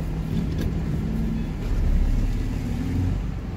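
A 2006 Cummins diesel pickup with a G56 manual transmission running steadily, a low continuous engine rumble that swells slightly mid-way, with no voices over it.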